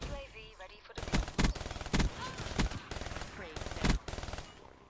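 A light machine gun in Call of Duty: Black Ops 3 fires in several rapid bursts, close and loud, separated by short pauses, with one brief voice at the start.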